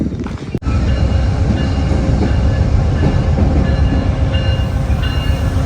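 A train rolls steadily past in Harpers Ferry, a loud, continuous rumble and rattle of rail cars heard close by with no talking.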